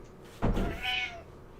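A cat meows once nearby, a short rising-falling cry that follows a soft thump in an indoor room.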